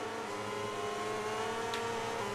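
A racing motorcycle engine in MotoGP 20 holds a steady, loud, high mechanical whine for a couple of seconds, with layered harmonic tones and no talking.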